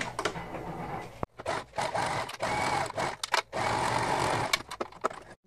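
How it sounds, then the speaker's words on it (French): A sewing machine stitches a straight seam about 1 cm from the edge of a mesh bag, running in bursts of steady mechanical whirring broken by short pauses and stops. "on va venir d'abord faire une couture au point droit à maximum 1 cm du bord"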